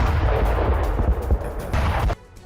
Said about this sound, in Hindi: कई किलोमीटर तक सुनाई दी धमाके की आवाज